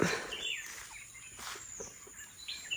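Birds chirp in short, faint bursts around a farm plantation, heard at a distance against a soft outdoor background with no one talking.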